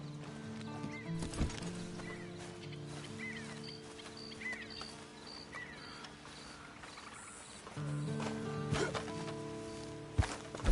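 Horse hooves clip-clopping in the Red Dead Redemption Online video game, with a whinny, amid a game music bed and ambient effects; hoofbeats are moderately loud, sharper near the start and again near the end.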